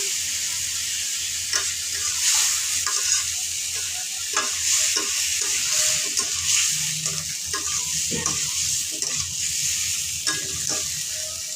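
Fish curry with its spices, the fish already fried, cooks in a pan with a steady bright sizzle, broken by repeated soft scrapes and clatters of stirring, close and without talk.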